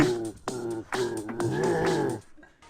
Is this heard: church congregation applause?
no